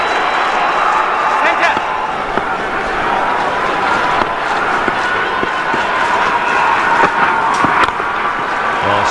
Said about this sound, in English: And the crowd is alive.